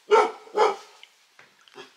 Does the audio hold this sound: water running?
no